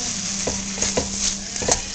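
Ingredients for baccalà with tomato, olives, capers and raisins sauté in a pan with a steady sizzle, broken by a few stirring scrapes and clinks, close and moderately loud with no talking.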